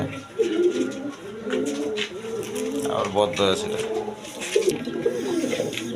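A pair of pigeons, a down-face hen and a Danish cock, coo in rolling, repeated calls close by while someone speaks over them.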